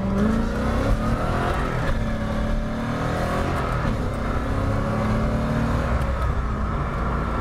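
A 1991 Chevrolet Corvette ZR1 with its LT5 V8 pulls hard under acceleration from inside the car, a loud continuous engine roar with rising pitch sweeps as it climbs through the revs, steady for the whole stretch.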